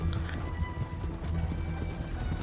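Horses pull a wagon in Red Dead Redemption 2, their hooves clopping continuously over a dense low rumble of wheels and game noise, close and steady for a couple of seconds with no clear talk.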